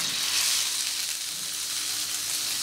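Rabbit pieces fry in duck fat on a plancha, giving a steady bright sizzle and hiss that stays close and fairly loud throughout, with no voices.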